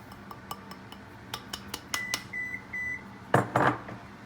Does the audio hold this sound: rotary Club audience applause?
no